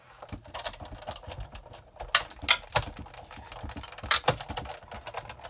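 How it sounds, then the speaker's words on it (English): A manual die-cutting machine is cranked by hand to feed a stack of acrylic plates and a card through. It makes close, uneven clicking and ratcheting with a few sharper knocks. "And then I'm just going to crank this through."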